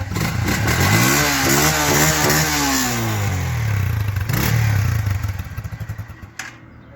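A Lifan Lion 125cc motorcycle engine runs up close, revving up and down in rising and falling sweeps, then sputters to a stop.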